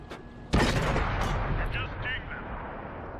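A single heavy tank cannon shot in a war game, fired from an FV4202 (P) at an enemy tank, a sharp loud boom that rolls into a long reverberating rumble with faint mechanical clanks trailing behind.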